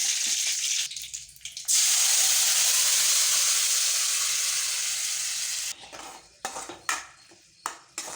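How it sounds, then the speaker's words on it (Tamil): Ground tomato chutney boils and sizzles hard in a pan over a high flame, giving a steady loud hiss. Utensil clanks and scraping break in near the end. "சேர்த்துட்டு ஒரு கொதி வர வரைக்கும் நம்ம கொதிக்க விட்டுக்கலாம்."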